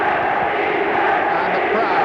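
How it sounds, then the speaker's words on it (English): A large football crowd at Wembley in 1967, England against Scotland, roars in a steady, dense wash of cheering with no breaks, loud and continuous throughout. "the crowd cheering England now, trying to get some action"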